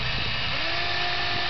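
A power drill whirs steadily as it drives screws into a barn structure, a short continuous buzzing close to the listener.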